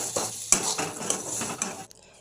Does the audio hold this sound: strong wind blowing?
no